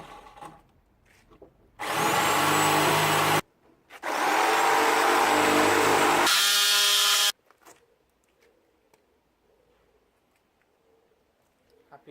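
A loud power tool cuts into the rear wheel arch of a BMW E30 during an M3 rear arch fitting, in two long sustained bursts with a short pause between, followed by a shorter whining burst and then a quiet room.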